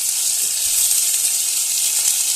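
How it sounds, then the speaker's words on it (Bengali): Grated ginger and curry leaves sizzle steadily in hot oil, a close, continuous bright hiss with faint crackles, loud and unbroken throughout with no talk. "তো কারি পাতাটা সঙ্গে সঙ্গে তেলে দিলে খুব ছিটকে আছে বলে আমি একটু পরেই দিলাম"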